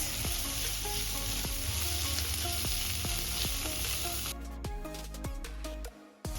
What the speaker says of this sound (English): We're then going to add in the halloumi and cook that for a little bit.